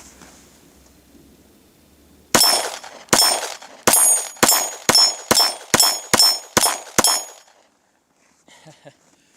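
Nine sharp, loud pistol shots from a Glock 26 9mm firing through a magazine, evenly spaced and ringing, then a few faint clinks after the last round.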